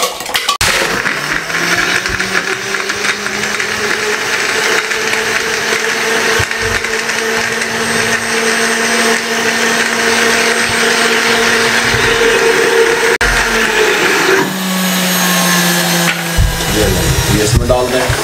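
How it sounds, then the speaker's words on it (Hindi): A blender grinds tamarind and dried plums for sharbat with a loud, steady motor whine lasting most of the time, its pitch shifting slightly near the end. "इस सब को मैं ग्राइंड करने लगा हूँ, इसको भी ग्राइंड कर लें इस तरीके से।"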